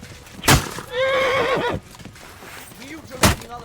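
A horse in the video game Kingdom Come Deliverance 2 gives a clear, wavering whinny about a second long, framed by two sharp thuds, with a faint hoof clop and a brief voice afterward.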